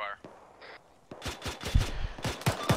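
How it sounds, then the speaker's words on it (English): Suppressive gunfire in a military video game: a close series of sharp, loud shots in irregular bursts after a quieter start, with radio voices briefly heard beforehand. "we're gonna give you some suppressive fire"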